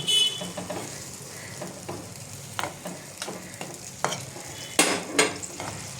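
Fish pieces go into a simmering curry in a pan, giving a soft bubbling sizzle with a handful of sharper splashes and spoon scrapes, close by with no talking.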